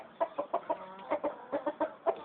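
A chicken on a farm, handled during artificial insemination, clucks in quick, steady bursts, close and moderately loud with no talking over it.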